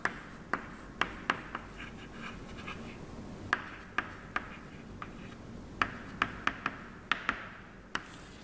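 Chalk or marker tapping and scratching on a classroom board during a Hindi-medium chemistry lesson: sharp, irregular ticks and short scrapes, fairly quiet, with no speech.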